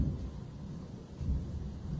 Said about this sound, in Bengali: অনেকদিন বাদে এইরকম বিদ্যুৎ চমকাচ্ছে